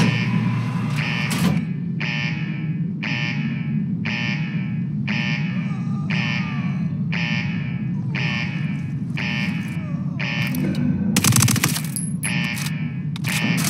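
Rapid automatic gunfire from Ghost Recon Wildlands, heard as a run of about a dozen evenly spaced, loud bursts over a steady game background, ending in a brief, denser flurry of shots.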